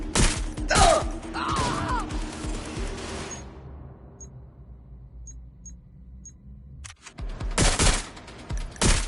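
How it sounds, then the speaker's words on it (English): Watch Dogs: Legion gunfire, loud rattling bursts of automatic shots that open the moment, give way to near silence, then return in dense volleys near the end. "Taking fire!"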